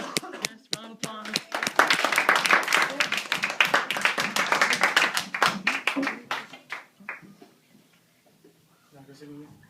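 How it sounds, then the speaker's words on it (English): An audience gives a round of applause, sharp separate claps that swell into a dense burst, then thin out and fade after about seven seconds, with a voice speaking softly at the end. "Yes, round of applause."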